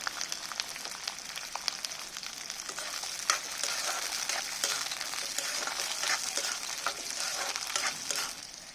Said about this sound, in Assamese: মটৰখিনি মই অকণমান ভাজি ল'লোঁ